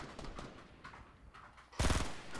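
Gunfire in Fortnite, a 50v50 match: scattered distant shots and short bursts pop through the scene, ending in a louder, close burst of rapid fire.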